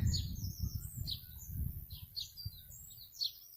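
Birds sing on a muggy day in the South Downs countryside, giving short bright chirps and trills that repeat through the moment over a low rumbling background, moderately distant and soft.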